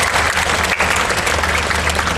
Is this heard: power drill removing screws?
no